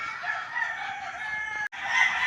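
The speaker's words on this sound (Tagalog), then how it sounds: "Maririnig po ay mga tilaok ng manok." A long rooster crow rings out close by, cut by a brief break, then continues with more crowing from nearby birds.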